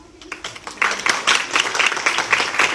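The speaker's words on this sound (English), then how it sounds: "a big round of applause for each one of you" Audience applause at a pageant audition for married women in Delhi: a room of people clapping, starting sparse and quickly swelling into steady, dense, close clapping that continues to the end.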